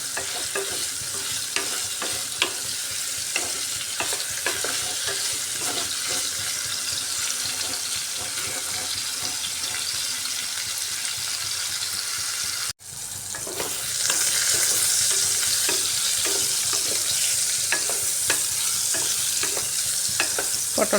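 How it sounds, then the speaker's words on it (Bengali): Pointed gourd pieces fry with turmeric and salt in a pan, giving a steady loud sizzle with scraping and clattering strokes as they are stirred, broken by a brief pause partway through before the sizzle returns. "এইভাবে নাড়িয়ে পটলটাকে একটু ভাজা ভাজা করতে হবে।"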